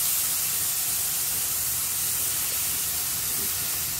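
Onions fry in hot oil in a pan for a Bengali fish kalia, giving off a steady, even sizzle that continues unbroken with no talking.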